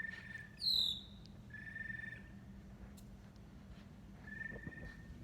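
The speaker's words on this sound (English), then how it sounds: "that bird is so loud. It's definitely in this tree right here." A loud bird calling from a nearby tree at night, with a sharp descending whistle followed by a few shorter clear tonal calls over a low background hum.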